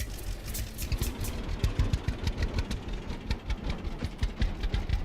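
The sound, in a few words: tractor engine in a farming video game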